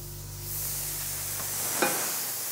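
Ingredients sizzle steadily in a hot pan, with mushrooms about to go in during a Le Cordon Bleu cooking show; a soft continuous hiss with a faint clink near the end, no talking.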